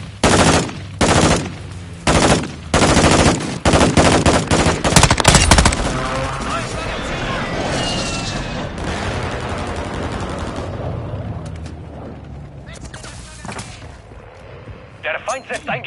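Enemy gun emplacement fire in the Call of Duty video game: rapid heavy bursts of gunfire pound loudly at first, then blur into a continuous din of battle that slowly fades.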